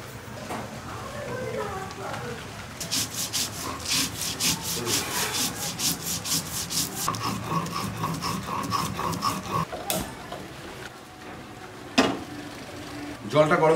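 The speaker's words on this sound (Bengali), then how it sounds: "এবার কালো সর্ষে, পোস্ত আর কাঁচা লঙ্কা একসাথে বেটে নেব।" Black mustard seeds, poppy seeds and green chili are ground into a paste, heard as rhythmic scraping and grinding strokes close up, with a person talking partly over them and a sharp knock near the end.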